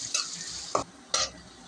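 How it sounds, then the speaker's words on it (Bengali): Onion frying in hot oil with a little ghee, a soft steady sizzle under a few sharp scrapes and clinks of a spatula stirring in the pan, with no one talking. "তেল গরম হয়েছে, এখন পেঁয়াজটা ছেড়ে দিব। পেঁয়াজ ছেড়ে ভাজবো।"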